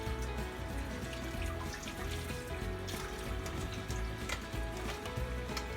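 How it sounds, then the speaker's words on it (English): Hands being washed under a running kitchen tap while making meatloaf: a steady stream of water splashes and trickles in the sink, with occasional clinks and handling noises, moderately close and without voices. "let me wash my hands one more time"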